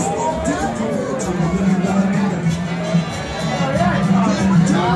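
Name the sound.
crowd chatter at a Venice Beach party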